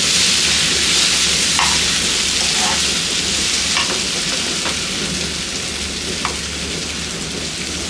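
A spoon stirs a potato palya mixture in a pan, giving a steady, close sizzling rustle with faint occasional scrapes throughout.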